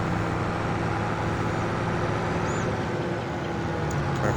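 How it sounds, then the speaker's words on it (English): A Kubota tractor driving in Farming Simulator 22, a steady low engine drone that holds unbroken and fairly loud throughout, with no voices over it. "we'll grab the Kubota tractor"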